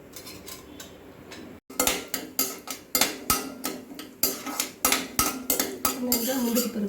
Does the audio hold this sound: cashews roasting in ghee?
yes